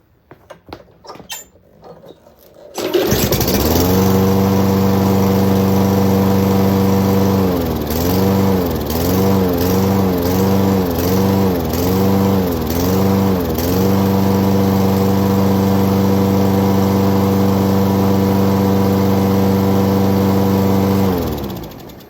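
A Craftsman lawnmower engine with a freshly cleaned carburetor and new spark plug fires up after a few clattering pull attempts, then runs loud and steady close by, its speed wavering in a brief surging stretch before settling into an even drone.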